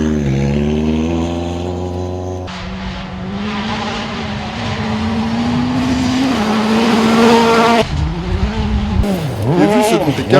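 A Citroën DS3 WRC rally car is driven hard on a circuit, its engine revving and rising in pitch through the gears, with abrupt shifts and tire noise. A voice talks over it.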